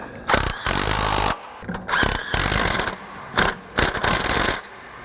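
Ratcheting wrench work on the exhaust manifold bolts of a 2000 Pontiac Montana 3.4L, loud close bursts of mechanical clicking and grinding in several spells separated by brief pauses.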